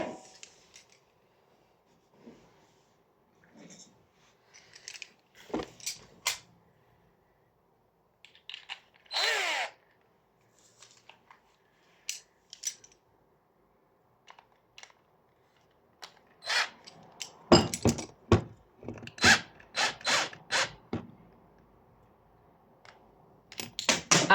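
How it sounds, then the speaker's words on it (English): A power drill whirs in short, intermittent bursts, with brief pauses and clattering between runs, growing more frequent toward the end. "when I put the drill bit in the end of the drill"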